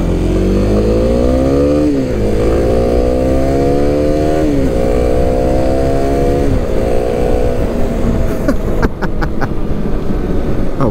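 A tall, skinny Kawasaki KLX 300 dual-sport motorcycle rides at steady speed with loud engine drone, the revs rising and dropping through several gear changes before winding down as the bike comes to a stop.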